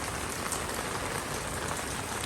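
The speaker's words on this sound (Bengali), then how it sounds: "বৃষ্টি এখন একটু কমে গেছে আগের থেকে, বাট আগে আর একদম বেশি ছিল" Steady rain falls on a shade net over an outdoor bird enclosure, a dense, even hiss of drops on surfaces that holds at a constant moderate level with no voices.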